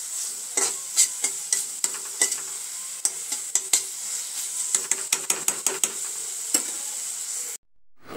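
A fish fries in a pan with turmeric, chili powder and salt, hissing steadily while a spoon scrapes and stirs it in repeated sharp knocks. The final second is abruptly silent.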